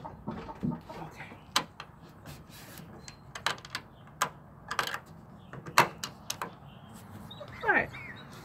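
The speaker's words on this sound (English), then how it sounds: "one door latched" A chicken coop door is closed and latched with a string of sharp, close wooden and metal knocks, clicks and rattles spread irregularly over several seconds, with a slightly longer scrape near the end.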